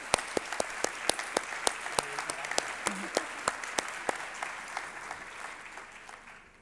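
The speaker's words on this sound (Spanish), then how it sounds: "Un aplauso." Applause from an audience at a church pastoral conference, a thin, fairly distant patter of steady clapping with sharper individual claps standing out, slowly fading toward the end.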